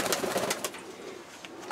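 Pigeons coo softly in a new dovecote in Kurakhovka, a steady low murmuring from nearby birds with no voices over it.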